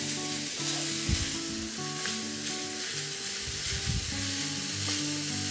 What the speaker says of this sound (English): I'm going to add the mince to the pan. And I'm going to break it up so it doesn't form large clumps.